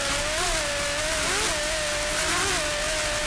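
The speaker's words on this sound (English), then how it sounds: "Just listen to those Lamborghinis." Offshore racing powerboats with Lamborghini engines roar continuously at high revs, a dense whining engine note that rises and falls slightly over heavy wind and water noise, loud and unbroken with no talking.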